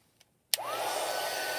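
A heat tool switches on and blows a steady stream of hot air over a foiled card, its whirring hiss rising at once and holding loud after a couple of faint clicks.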